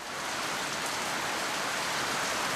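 Rain falls steadily in the Seychelles, a dense, even hiss of drops that holds at a constant level throughout, with no voices.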